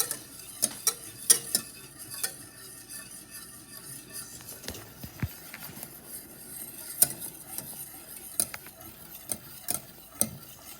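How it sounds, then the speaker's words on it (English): Whisk stirring a sauce in a pot for Hungarian roasted chicken, giving repeated light metallic taps and scrapes over a soft continuous background, close and moderately loud. "stir the whole time, making sure that it's going in where my whisk is, so that we don't have any lumps"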